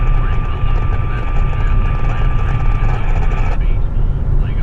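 A loud, steady engine and propeller drone fills a small aircraft cabin in flight during a storm-chasing trip over Oklahoma, a constant roar with faint tonal whine and no pauses.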